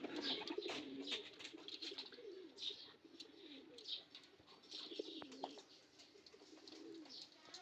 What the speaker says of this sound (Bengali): কবুতরগুলো অলরেডি পানিতে নেমে গেছে গোসলের জন্য, সবাই রেডি